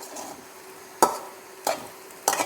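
Sago with vegetables is stirred in a pan, a soft sizzle running underneath while the spoon strikes the pan three times in distinct, close scraping knocks.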